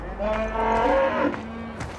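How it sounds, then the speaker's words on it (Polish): Cows in the Farming Simulator 2013 video game give a long, low, drawn-out moo, fairly close and loud, with light game ambience behind it. "Oj, tu mamy krowy, zaraz podejdziemy sobie do krówek."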